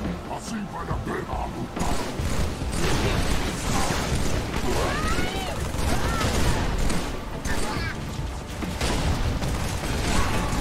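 Repeated heavy blasts of cannon fire in Halo 3 amid chaotic battle noise, explosions and whistling projectiles, with voices calling out over it.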